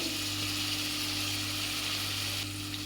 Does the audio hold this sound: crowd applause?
no